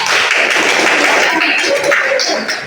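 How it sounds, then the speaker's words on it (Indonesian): Schoolchildren in a classroom clap for a presenting group, a loud, close burst of hand clapping that tapers off toward the end. "tepuk tangan untuk kelompok 2"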